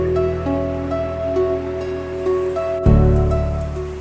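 A mountain creek flows along the Alum Cave Bluff trail in the Great Smoky Mountains, Tennessee, as a steady rush of water that swells louder partway through, beneath a sustained tonal background.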